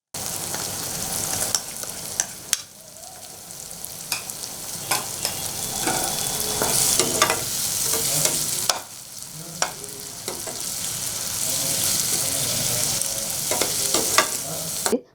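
A ground paste of ginger, garlic, green chili, coriander and shallots sautés in hot oil for kudal varuval, a steady close sizzle broken by repeated scraping stirs of the spoon across the pan.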